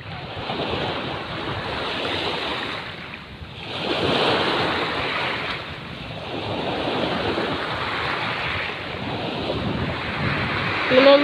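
Sea waves at Nagtabon beach surge and wash in repeatedly, a loud rolling roar that swells and recedes every few seconds, mixed with wind buffeting the microphone.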